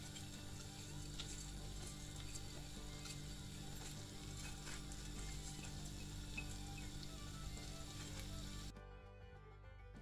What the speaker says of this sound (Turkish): Şimdi bunu böyle pirinçleri kavuracağım.